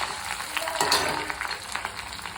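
Curry leaves and ginger sautéing in hot oil, a steady close crackling sizzle with small popping spatters throughout.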